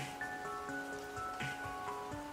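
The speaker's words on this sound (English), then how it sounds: "I found a Diablo soundtrack with background rain as jamming 12 hours per day." Background rain on a Diablo game soundtrack, a soft continuous patter beneath held musical notes that shift pitch slowly, fairly quiet and even across the short stretch.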